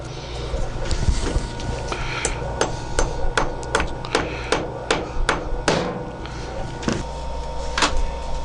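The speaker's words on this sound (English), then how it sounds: "Got my hammer handy in case they don't go in all the way." Repeated sharp hammer taps driving tubes into composite pen blocks, about a dozen spaced strikes, close and crisp over a low background hum.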